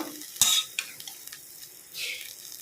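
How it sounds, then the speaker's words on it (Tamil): Drumstick leaves (murungai keerai) being sautéed in a pan, heard as a few sharp stirring scrapes and soft sizzling bursts, with brief clinks of a utensil and quiet gaps between them. "முருங்கைக்கறி சேர்த்துக்கலாம் நல்லா வதக்கிக்கலாம்"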